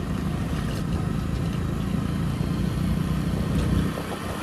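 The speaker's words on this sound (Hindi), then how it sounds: "ये फुल ऑफ रोड वाला रास्ते आप देख सकते हैं। मेन दिक्कत बस यहाँ पे धूल मिट्टी की है, बाकी सब तो कोई दिक्कत नहीं है, बाइक आराम से चढ़ रही है।" A 100 cc motorcycle climbs a dusty, unpaved off-road mountain road between Kedarnath and Badrinath, its small engine droning steadily and closely throughout with a low rumbling hum and rough road noise.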